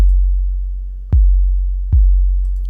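Deep, smooth sine-style 808 bass notes from the FAW Sublab plugin, two low booming hits that sustain and slowly fade, with nothing else playing.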